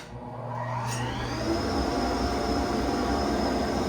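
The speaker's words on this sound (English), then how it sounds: "Turn on the blower." A woodworking shop's dust collection blower spins up and runs continuously, a broad rushing drone with a faint high whine, close and fairly loud, no voices.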